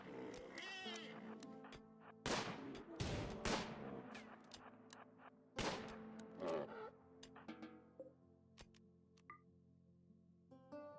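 Sharp bursts of gunfire in a colony-building video game, with several loud shots at irregular intervals standing out over a steady game soundscape; no talk.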